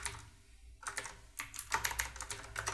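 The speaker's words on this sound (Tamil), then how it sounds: "இப்போது இங்கே ஒரு வார்த்தைகளை டைப் அடிச்சுப்போம்." Typing on a computer keyboard while entering text in Photoshop for an award shield design: quiet, irregular key clicks in short clusters, near and alone, with a brief pause before a denser run of taps.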